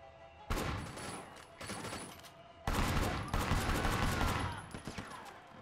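Loud, close gunfire in the Hong Kong crime action game Sleeping Dogs, sharp volleys of shots in two main bursts with rapid clustered reports, no talking over them.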